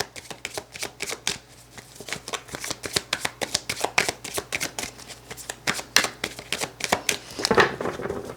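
Tarot cards being shuffled by hand: a steady run of quick, crisp riffling snaps close by, continuing for several seconds with no talking over them.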